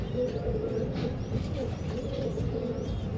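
A pigeon home in its loft coos in low, rolling phrases, repeated several times at close range over a steady background hum.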